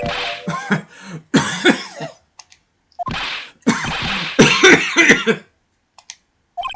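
In the video game Phoenix Wright: Trials and Tribulations, a run of harsh coughs comes in two bursts with short pauses between them, loud and close, with a few faint clicks in the gaps.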